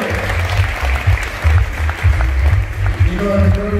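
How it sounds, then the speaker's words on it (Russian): An audience at a jewelry business event applauds steadily in dense rhythmic clapping, with a voice speaking over it near the end. "Еще раз аплодисменты."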